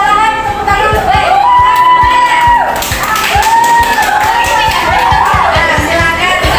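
Students in a classroom clap in short, fairly rhythmic bursts, close and loud, while voices talk and chatter over and between the claps.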